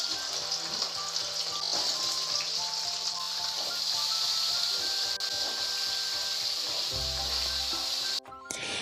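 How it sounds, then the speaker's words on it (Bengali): Taro and lentil fritters fry in oil after a spice tempering of nigella and cumin seeds, giving a steady, close hiss and sizzle with faint clinks, alone without speech. "ধীরে ধীরে আমি এটাকে ফ্রাই করে নিচ্ছি।"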